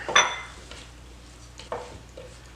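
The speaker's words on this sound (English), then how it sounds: "we're going to add in our onion jalapeno mixture and give it one more good stir" A spoon stirs an onion and jalapeno mixture into a tomato salad in a bowl, with a few soft, close scrapes and clinks separated by quiet gaps.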